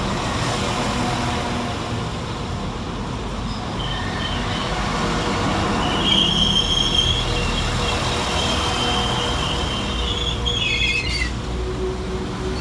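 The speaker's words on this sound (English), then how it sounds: "Next arriving into the station is 195017 and 195013, working the 1500 Northern service from Chester to Leeds" Northern class 195 diesel multiple units, 195017 and 195013, arriving at Newton-le-Willows station: a steady, loud rumble of train movement with brief high squeals of wheels and brakes, no voices.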